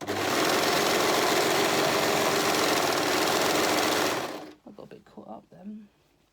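An overlocker stitches a rolled hem in one loud, steady, fast-whirring run for about four seconds, close by, then stops and a voice speaks.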